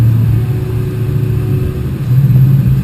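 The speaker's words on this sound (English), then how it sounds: "Downshifting, she feels pretty good." A car fitted with a Hurst billet shifter drones through a downshift, its engine note holding and then rising slightly, loud and close from inside the cabin with no talking.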